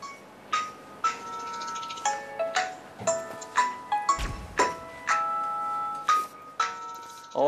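An international phone call rings out with a repeating electronic chime, pairs of melodic tones sounding at a steady rhythm, clear and close with little else around.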